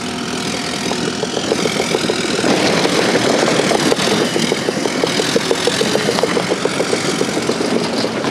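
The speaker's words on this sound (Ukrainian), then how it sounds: "Трактори вирівнюють тони ґрунту, звезеного вантажівками." Tractors levelling heaps of trucked-in soil on a riverside construction site give off a loud, close engine drone that rises and falls with working load, steady throughout.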